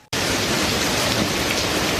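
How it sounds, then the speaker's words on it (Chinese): Heavy downpour in a flooded low-lying street in Kaohsiung's Sanmin District, a dense, steady rain hiss filling the scene at close range after a brief quiet start, with no voices. "大雨下不停，家门前的物品都跟着水流飘走"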